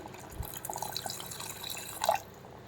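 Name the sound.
water being poured into a pot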